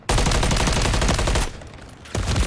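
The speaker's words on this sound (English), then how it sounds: "But why are you shooting at Drew?" Rapid automatic gunfire and bursts of shots in a video game, loud and dense, pausing briefly before resuming.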